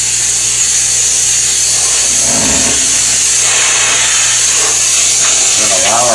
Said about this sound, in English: begin to apply the steam to this unit here